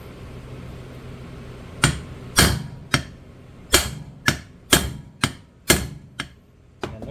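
Hammer blows on a socket seating a U-joint cap, about eight sharp metallic strikes in a steady, slightly irregular rhythm, close and loud, with no talking.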